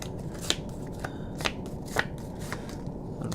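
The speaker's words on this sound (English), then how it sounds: "I brought my pack of cards. Shuffle, shuffle." A pack of playing cards being shuffled: a few crisp riffling bursts spaced about half a second apart, quiet and close, with no talk over them.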